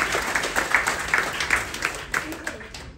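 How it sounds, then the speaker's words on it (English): Applause from a crowd at a carnival military appreciation event, honoring military spouses, clapping in uneven bursts that thin out toward the end. "I think deserves another big round of applause out there"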